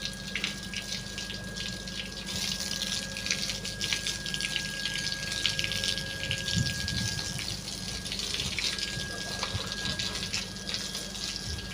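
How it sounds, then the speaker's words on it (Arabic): Water gushing and splashing steadily across a large home courtyard being washed down, a continuous close rush with a faint tonal hum behind it. "وهنا راح ابلش اغسل الحوش"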